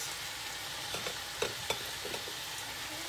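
Turmeric chicken sizzles steadily in a hot pan during a stir-fry, a constant bright crackle with a few sharp scrapes and taps of the utensil as the pieces are tossed around.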